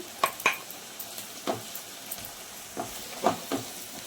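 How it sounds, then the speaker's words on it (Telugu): Soft, steady sizzling of carrot and capsicum frying in a pan, with a few light scrapes and clinks scattered throughout. "చివరగా వేసుకొని ఒక్క నిమిషం ఫ్రై చేసుకొని"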